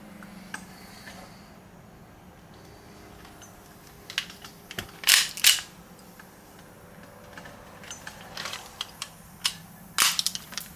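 A TTI AAP Mini Mamba airsoft pistol fires sharp, snappy pops, two close together and a third a few seconds later, over a faint background hum.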